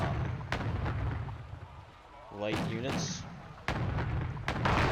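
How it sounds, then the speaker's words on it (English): Mortar shelling in a strategy video game, with several heavy booming impacts spread across a few seconds, mixed with someone talking over them. "This is a pretty decent use of mortars, just sort of shelling into where you expect there to be light"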